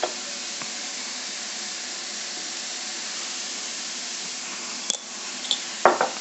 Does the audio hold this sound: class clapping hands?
no